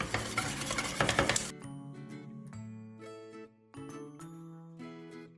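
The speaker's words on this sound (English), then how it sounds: "Let me mix it a bit first." Bread pudding mixture of milk stirred in a pot on the stove, heard as a brief, fairly loud burst of scraping and swishing at the start, followed by quieter tonal sounds.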